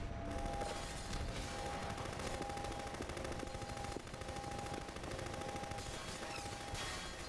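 Sustained automatic gunfire from an enemy in Half-Life 2, loud and continuous with dense rapid bursts of shots throughout.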